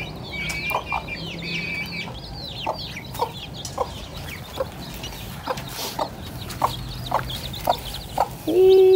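Chickens cluck in short repeated bursts close by, with higher chirps and squawks in the background and a louder call at the end.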